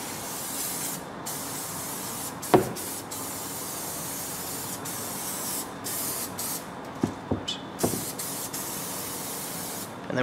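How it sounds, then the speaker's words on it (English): A steady aerosol spray of adhesive onto a valve cover gasket hisses for several seconds, with a few short knocks and clicks near the end. "we're gonna take some of our spray adhesive we've been using throughout the build"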